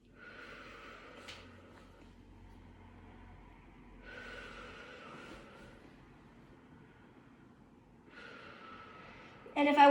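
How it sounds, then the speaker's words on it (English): A patient breathing in deeply through an open mouth during a head-to-toe nursing check with a stethoscope, three slow, soft breaths spaced several seconds apart, with a louder rustle at the end. "take a deep breath in with an open mouth"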